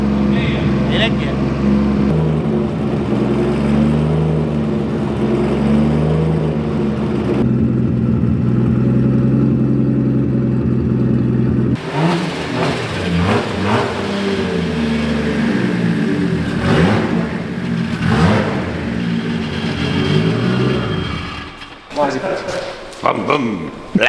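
A car engine fires up for the first time after a rebuild and revs repeatedly, a loud rough roar that surges and falls in waves, with people talking nearby over it.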